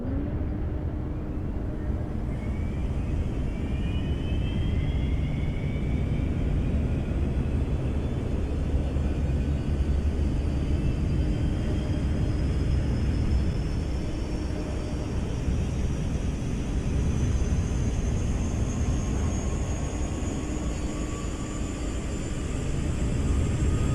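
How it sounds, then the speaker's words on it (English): In MSFS 2024, the APU of a Boeing 777-300ER starts up, heard from outside the aircraft: a loud, steady turbine roar with thin whining tones that slowly rise in pitch as it spools up. "hop outside and have a listen to the APU startup of our beautiful"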